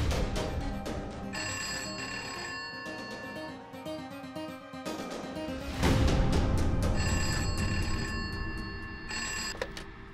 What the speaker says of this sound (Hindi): हेलो, देवी को फोन दे।